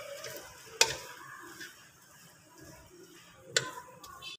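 A spoon stirs soft cooked vermicelli with dry fruits in a pan, with faint scraping and a low simmer broken by two sharp clinks of utensil against the pan.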